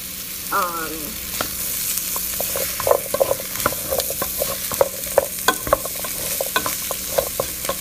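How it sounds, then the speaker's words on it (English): Curry spices toast in a pot over medium-high heat for a curried butternut squash soup, giving a steady close sizzle broken by frequent scraping clicks and taps of a utensil stirring against the pot. "that's why I'm choosing to kind of toast that over a fairly high, medium-high heat."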